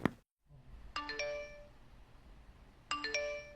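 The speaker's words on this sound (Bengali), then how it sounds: "এ সময় তো কেউ কলিং বেল দেয় না" A doorbell chimes twice, a bright two-tone ding-dong ringing out, then repeating after a short pause in an otherwise quiet room.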